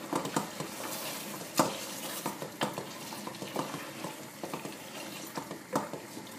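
A spoon stirs harissa through a frying pan of tomato sauce, giving irregular scraping clinks against the pan over a soft background sizzle, close and without voices.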